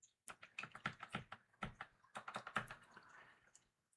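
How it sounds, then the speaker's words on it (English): Rapid, uneven clatter of keys on a computer keyboard, close and fairly quiet, with short bursts and brief pauses over about four seconds. "I'm using the keyboard, not the mouse, because I can get around faster this way."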